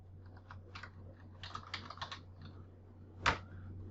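Keystrokes on a computer keyboard while setting up a level in Unreal Engine 4: scattered bursts of quiet clicks in small clusters, close-up over a steady low hum, ending with one louder sharp tap.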